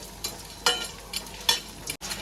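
Edible gum (gond) frying in hot ghee in a kadai, a steady close sizzle broken by several sharp scraping stirs of a spoon against the pan at irregular intervals.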